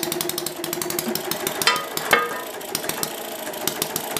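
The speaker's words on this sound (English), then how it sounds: "that hit and miss engine only misses when the engine is sitting there with no load on it" Hit-and-miss engine running steadily under load while hoisting, giving a fast, even stream of mechanical knocks and clatter with no missed beats, close and fairly loud, with a couple of sharper metallic clanks partway through.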